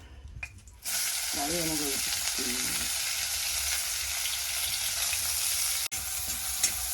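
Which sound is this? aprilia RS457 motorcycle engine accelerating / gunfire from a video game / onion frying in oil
onion frying in oil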